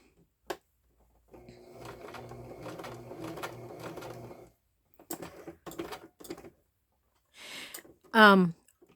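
A home sewing machine stitches fabric for fall fabric flips and belly bands in short bursts of steady mechanical whirring, with pauses between runs and a brief sharp click near the end; the sewer speaks quietly at times.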